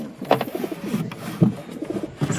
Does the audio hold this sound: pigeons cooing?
yes